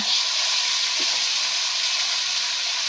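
Ground cumin and ginger fry over a high gas flame in a home kitchen pan, giving a steady, bright sizzle and hiss that stays close and even, with no voices.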